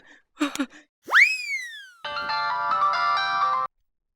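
A mobile phone ringtone plays alone, opening with a few short blips, then a rising chirpy swoop and a steady, bright melodic tone that holds for about a second and a half before stopping abruptly.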